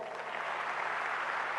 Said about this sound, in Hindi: दोनों छोटे छोटे बच्चों को जोर से तालियां बजाएं